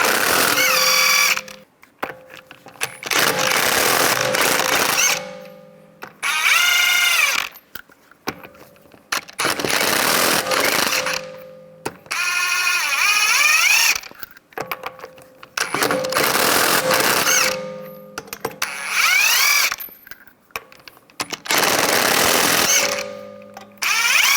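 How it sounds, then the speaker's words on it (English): Repeated bursts of an impact wrench with a 19mm socket spinning lug nuts off a rear wheel of a 2011-2019 Ford Explorer, loud and close, each whirring, rattling burst separated by brief pauses. "use a 19mm socket, take the lug nuts off"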